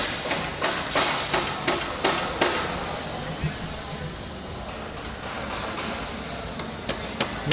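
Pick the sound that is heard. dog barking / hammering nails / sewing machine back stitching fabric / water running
hammering nails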